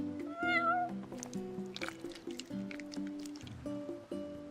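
A cat meows in Final Fantasy XV, a short rising mew near the start over steady game music and ambient effects.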